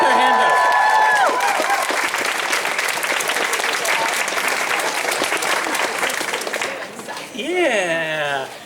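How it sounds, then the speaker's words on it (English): A crowd at a graduate student educators' and teaching assistants' rally bursts into loud applause and cheering that swells and holds, then fades as whoops and a voice rise near the end. "Make some noise for everybody who put their hand up."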